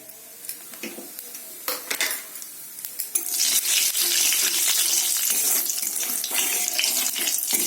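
Bay leaves, cloves, cardamom, cinnamon and white cumin drop one by one into hot refined oil left from frying eggs: a few sharp clinks and spits, then a loud, continuous close sizzle.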